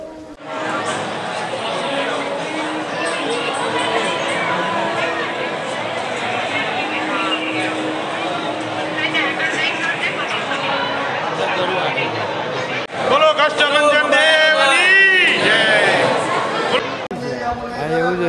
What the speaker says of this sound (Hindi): तो आप देख सकते हैं यहाँ भक्तों की बहुत ही भीड़ लगी हुई है